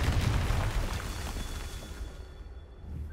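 A Confringo blasting spell in Hogwarts Legacy goes off as a short, deep burst whose rumble fades away over a few seconds, with no talking.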